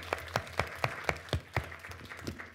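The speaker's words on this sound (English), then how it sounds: "Give everyone a round of applause." A small conference audience gives a short burst of clapping, with individual claps distinct and regularly spaced, thinning out toward the end.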